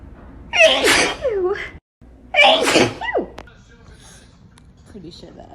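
Two big allergy sneezes from a person, each a loud sharp burst with a wheezy tail, separated by a brief pause, close-up, followed by faint breathing.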